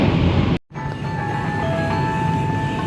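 Kaligung economy train standing at Babakan station near Cirebon, a steady loud rumble of engine and carriages with a sustained tonal hum, briefly cut by a short dropout before the continuous noise resumes.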